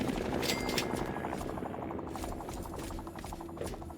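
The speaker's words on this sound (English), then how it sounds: "There's those helicopters." Helicopters in the video game Fallout 3, a steady rhythmic rotor thump with mechanical whine, moderately distant and continuous, mixed with ambient game sounds.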